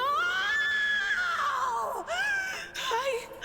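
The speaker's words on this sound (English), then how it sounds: "That was one hell of a scream" A long, loud, wavering scream from a character in the Rogue Trader video game, rising and falling in pitch, breaking off, then resuming in shorter anguished cries close up.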